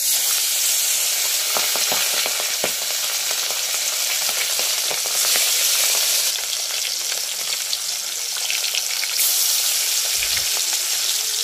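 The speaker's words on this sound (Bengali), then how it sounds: "তো চলো এক এক করে মাছগুলো এবার ভেজে নেওয়া যাক।" Pabda fish rubbed with salt and turmeric fry in hot oil, giving off a loud, continuous sizzle with crackling pops and occasional stirring, heard close and alone.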